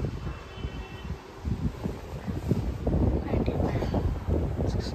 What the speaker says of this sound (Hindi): देखो भाई हवा चल रही है